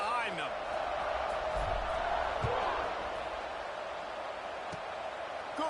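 A stadium crowd in the College Football 27 video game roars steadily at kickoff, a dense, constant wash of cheering with a few dull thumps near the start.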